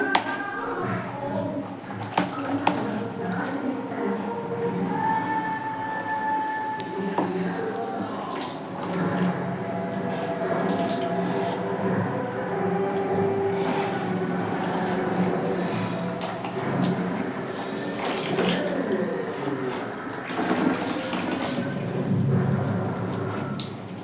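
Water running steadily during hair washing, a continuous close splashing hiss with irregular drips and patters throughout.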